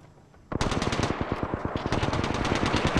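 Rapid automatic gunfire in the video game Apex Legends starts abruptly after a brief quiet moment, then continues as loud, close, sustained bursts of shots in a steady stuttering rhythm.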